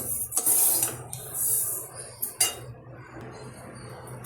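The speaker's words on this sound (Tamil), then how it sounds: "இது நல்லா ராகியை வறுக்கணும்." Ragi (finger millet) is dry-roasted in a pan while a metal spoon stirs and scrapes it, giving bursts of clinking and scraping with short pauses between them.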